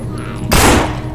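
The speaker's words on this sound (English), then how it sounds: "Okay, we'll shoot your homie right there." A burst of gunfire from a firearm in the zombie survival game No More Room In Hell erupts loud and close midway, a dense blast that decays over about half a second.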